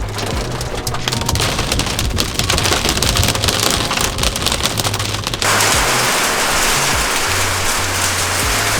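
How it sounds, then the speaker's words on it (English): Hail and heavy rain pour down with a dense, crackling patter of hard pellets striking surfaces, steady and loud throughout, no voices. "now it's hailing, so I'm gonna get out of here"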